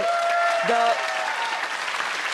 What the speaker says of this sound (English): Can we just applaud her